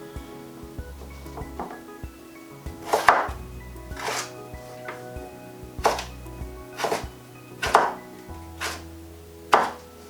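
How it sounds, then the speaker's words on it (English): Knife chopping through a sweet potato on a cutting board, cutting thin slices for fries: a series of crisp, close thunks at an uneven, roughly one-per-second rhythm, with no talking. "you can then cut each individual slice, again, sort of as thin as possible there"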